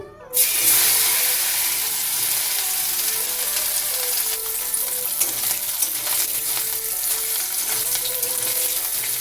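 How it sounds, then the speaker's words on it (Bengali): Grated coconut frying in a pan for a vegetarian chana dal, a loud close hiss and sizzle that bursts in right away and carries on steadily with faint stirring beneath. "নারকেলটা ভেজে নিচ্ছি।"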